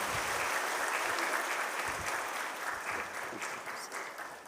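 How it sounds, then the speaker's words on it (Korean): A church congregation at a Sunday worship service claps in warm, sustained applause, a dense wash of many hands that holds steady and fades slightly toward the end. "우리 뜨거운 박수로 축하하십시다"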